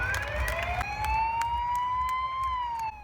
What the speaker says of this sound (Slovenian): Brez gasilskih siren valjda ni šla niti tukaj.